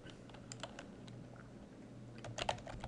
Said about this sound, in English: And then I'll go ahead and type.